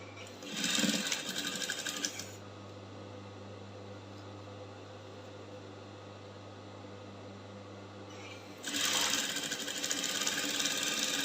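A sewing machine stitches a crinoline side seam in two quick close bursts of rapid whirring, separated by a quieter stretch of low motor hum.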